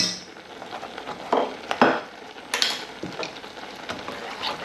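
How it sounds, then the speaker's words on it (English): A spoon stirs garlic, turmeric, garam masala, curry powder and chilli powder into runner bean chutney in a pan, giving soft sizzling with several scraping strokes and clinks, close and fairly quiet. "Give that a stir around, make sure that's all fully mixed in there."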